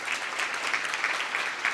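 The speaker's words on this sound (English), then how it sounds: "I ask everyone to give all the honorees this evening a real big round of applause" An evening awards ceremony audience applauds the honorees with steady, full-room clapping, a dense sustained wash of many hands at moderate volume and no pauses.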